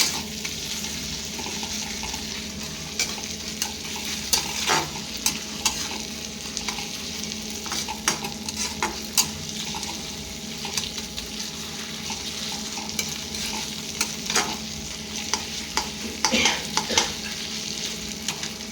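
Ground ginger paste fries with browned onions in a pan, giving a steady, close sizzle that runs without a break, dotted with sharp clicks and scrapes from stirring.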